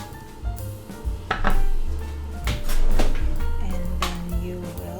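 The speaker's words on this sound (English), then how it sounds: "and then you will mix it just like that" Butter shrimp sauce ingredients including fish sauce and sesame oil are stirred in a dish, with irregular clinks and scrapes of a utensil against the bowl, close and fairly loud.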